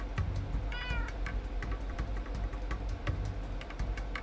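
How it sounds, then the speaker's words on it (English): Cats meowing inside the Minecraft modpack Tolkiencraft, a single clear rising meow standing out over a busy game soundscape of repeated clicks and ambient tones, with no one talking. "I need you to look after the cats."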